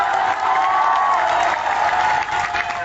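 A crowd listening to a political speech in Bihar claps loudly and continuously, a dense, even wash of applause that holds steady for the whole stretch.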